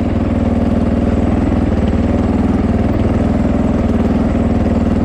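A Fantic 450 Rally motorcycle engine runs at a steady, loud, close throb, with rapid even firing pulses and no talk over it.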